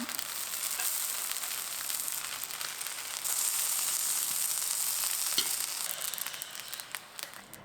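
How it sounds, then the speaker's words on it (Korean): Food fries in a coated frying pan, a steady loud sizzle running throughout with small crackles and shifts as the pieces are turned, and no voices over it. "골고루 뒤집어 가면서 이렇게 익혀주세요"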